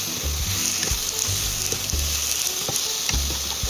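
Pork for a Thai palo stew is stir-fried in a pan, giving a loud, continuous sizzle broken by rhythmic scraping strokes of the spatula, close up, with no voices.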